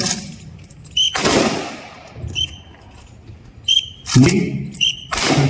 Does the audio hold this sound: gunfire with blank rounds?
yes